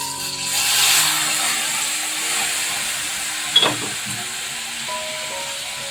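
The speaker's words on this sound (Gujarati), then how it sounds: "આ રીતે આપણને વઘાર કરી લઈશું" Cumin seeds and asafoetida tempering in hot oil for Gujarati spiced yogurt: a soft hiss swells and slowly fades, broken by one brief crackling burst midway.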